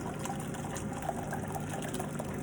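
Very hot, steaming sauce pours into a bowl with a continuous liquid splashing and trickling, close and steady, with no talking.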